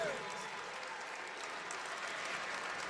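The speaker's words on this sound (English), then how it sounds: "Jaleel Jenkins checks out, and he gets a standing ovation from this home crowd." A home crowd at a Stony Brook vs Hofstra college basketball game gives a standing ovation, sustained dense clapping and cheering that fills the arena evenly for the whole stretch.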